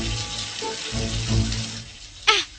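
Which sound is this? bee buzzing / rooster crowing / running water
running water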